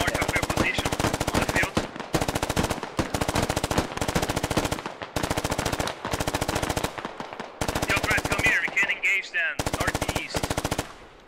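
Gunfire in the military shooter game SquadOps: long bursts of rapid automatic fire separated by brief pauses, loud and close throughout.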